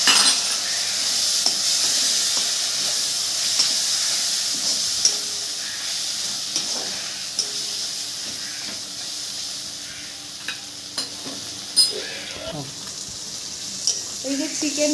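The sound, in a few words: water added to spice masala sizzling in a hot kadai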